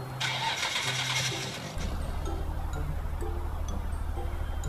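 A Nissan GT-R Skyline R34 engine starts: a whirring starter crank for under two seconds, then the engine catches and settles into a steady, close, rumbling idle with no talk.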